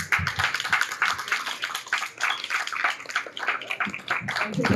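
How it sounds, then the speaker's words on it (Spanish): An audience applauds a speaker at a talk-and-coffee event, a dense, steady patter of clapping hands that lasts the whole time with no voices over it. "Damos un aplauso, por favor, fuertísimo a Pablo"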